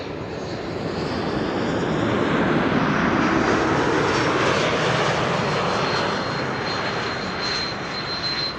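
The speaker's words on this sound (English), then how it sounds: "Airlines arriving from Zagreb, flight 450, Bombardier C-Series 300" Croatia Airlines Bombardier C-Series 300 jet arriving at Amsterdam Schiphol from Zagreb, a loud sustained engine roar swelling and then easing slightly as it passes nearby, with no voices.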